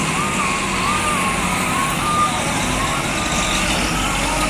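A bus idles and rumbles close by with a steady low engine drone, a warbling tone riding over it, loud and continuous without a clear pass-by.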